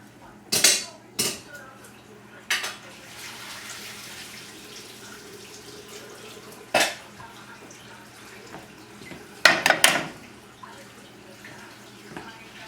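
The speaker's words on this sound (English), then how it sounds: "Now I'm going to drain the pasta" Gluten-free pasta is drained in a kitchen: water hisses and splashes into a sink, and sharp clanks of a metal pot and utensils come in scattered bursts around it.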